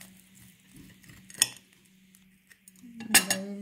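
Cutlery scrapes and clinks against a plate while stuffed potato dumplings filled with minced meat are cut, a few sharp metallic knocks standing out over quiet background, with no voices.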